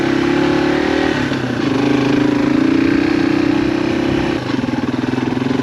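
A Yamaha XT225 dual sport motorcycle engine runs close and loud with a steady mid-pitched drone that rises slightly on throttle, dips briefly, then settles into a pulsing idle.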